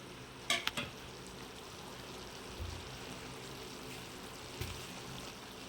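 Low, steady sizzling of chicken frying in a pan, with a few sharp scraping clinks of a utensil stirring early on and again near the end.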